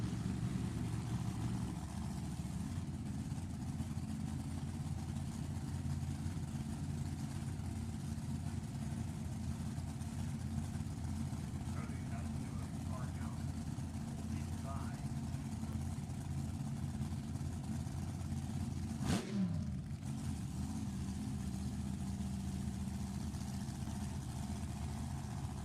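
Nostalgia drag racing cars with a 481 cubic inch motor and a 392 cubic inch Chrysler idling before a run, a steady low rumbling drone that holds throughout with a brief sharp transient near the end.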